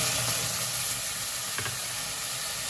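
Yogurt hits a hot pan of mutton and sizzles, giving a loud, close, continuous frying hiss with faint stirring over its short length.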